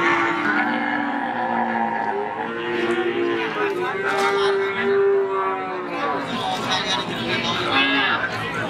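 Young bull cattle at a cattle market low and moo in long drawn-out calls, several overlapping, over a steady background of crowd chatter and nearby talk.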